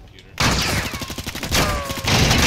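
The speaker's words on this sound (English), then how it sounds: "I'm trying to give y'all cover fire, bro" Rapid bursts of gunfire from the video game Warzone rattle loud and close, dense and continuous for most of the clip after a quiet start, with a voice faintly mixed in.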